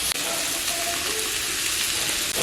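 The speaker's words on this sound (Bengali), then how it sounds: "এবার নিম পাতা আর মাছ একই সঙ্গে ভালো করে কষে নেব।" Neem leaves and fish fry together in a pan in a village kitchen, a loud, steady close sizzle with faint stirring clicks throughout.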